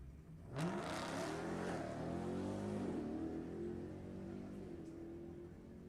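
A modern muscle car at a Sacramento drag strip launches and roars away, its engine rising through the gears, then fading and growing fainter with distance.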